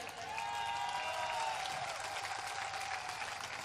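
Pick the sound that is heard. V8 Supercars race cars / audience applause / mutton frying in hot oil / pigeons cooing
audience applause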